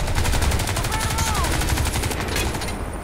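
Rapid automatic gunfire in the video game Crysis 2, a dense, loud, continuous clatter of shots running the whole stretch without pause.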